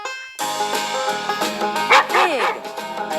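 A dog gives a few short bow-wow barks and yips close by, over continuous cheerful background music that starts abruptly.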